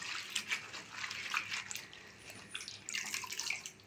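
Cut Malabar spinach rinsed under running water, with splashing and trickling bursts and small drips, quiet and close, without talking.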